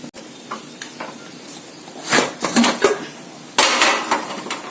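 Metal cake tin being set down into a preheated pressure cooker while baking a wheat-flour banana cake, giving several sharp metallic clanks and scrapes, a few light knocks early and a louder cluster of clatters near the end.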